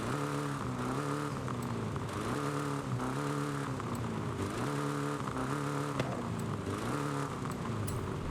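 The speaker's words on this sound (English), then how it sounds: "Let's hear the exhaust." Car exhaust in the Forza video game, upgraded with a better intake, carb and ignition, revving up and down in repeated rising sweeps at a steady, moderate level, with no talk.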